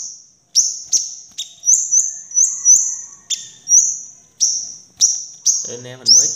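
Five-colored sunbird kept as a cage bird, giving a steady run of sharp, high chirps and short song phrases in a regular rhythm, close and clear, with a brief rustle near the end.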